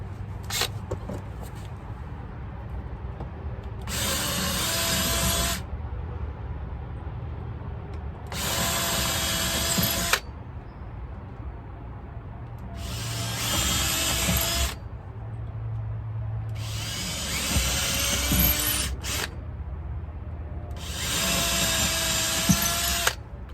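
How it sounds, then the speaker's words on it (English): A power drill boring pilot holes into sailboat fiberglass, five loud bursts of a few seconds each, separated by quieter pauses with low background hum. "So when you start to drill, it stops your drill bit from moving all around in a circle when you're trying to drill it."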